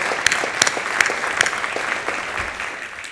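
A smaller group applauds at a State of the City event, with a few sharp, distinct claps standing out early before the clapping settles into a steady, moderate patter.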